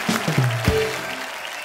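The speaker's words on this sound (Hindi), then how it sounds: "एक बार सभी के लिए जोरदार तालियां हो जाए।" Loud, steady applause from a studio audience on a comedy talk show fills the whole stretch, with brief tonal sounds at the very start.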